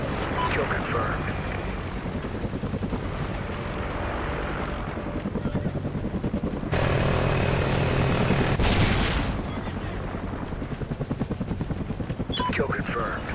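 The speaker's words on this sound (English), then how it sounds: "Friendly chopper inbound." A friendly helicopter in Call of Duty: Ghosts gives off a continuous rapid rotor chop, with a louder roaring burst midway and bursts of gunfire mixed in.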